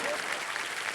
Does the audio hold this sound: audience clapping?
yes